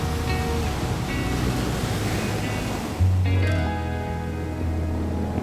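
Sea waves wash continuously onto a soft sand beach at Chilika, Odisha, in a broad, steady roar, with a brief low hum and some tonal noise partway through.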